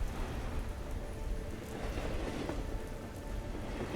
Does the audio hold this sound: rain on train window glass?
yes